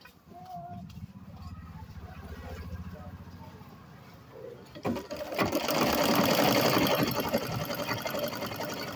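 Sewing machine running steadily along a folded half-inch blouse hem, a loud continuous mechanical whir that builds in the second half, with a voice talking underneath early on.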